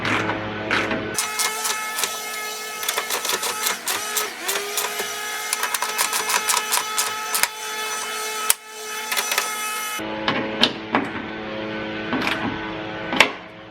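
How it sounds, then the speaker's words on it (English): A ratcheting tool tightening bolts on a Toyota Tundra hood during a grille mod, a rapid ticking run that stops midway and then picks up again, near and clear. "Now we'll tighten these down a little bit."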